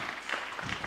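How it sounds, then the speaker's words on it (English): Faint audience clapping at a healthcare values session at Gyan Sarovar, Mount Abu, a soft, steady patter of many hands heard from a distance. "We can clap for them."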